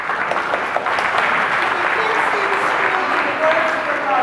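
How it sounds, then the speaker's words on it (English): Steady applause from a crowd at an Occupy Kona general assembly, loud and continuous, with voices and a few faint tonal sounds audible underneath. "And if you could give a little hand of applause for Jackie."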